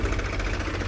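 A Farmtrac tractor engine idles after being stopped in a field with an 8-by-8 harrow attached, giving a steady, continuous low rumble with a rough mechanical knock, close and fairly loud, with no voices.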